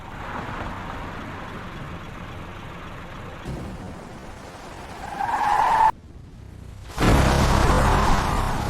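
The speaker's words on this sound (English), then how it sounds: "The bus stopped." School bus braking hard and coming to a stop, a loud sustained squeal and rush of brakes that swells, cuts off abruptly, then bursts back as a harsh hiss of air release.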